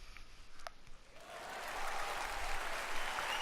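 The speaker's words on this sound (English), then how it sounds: "There was a huge wave of applause." Applause swelling from a crowd in the visual novel Steins;Gate, starting from near quiet with a couple of faint clicks, then rising into a broad, steady wash of clapping that holds to the end.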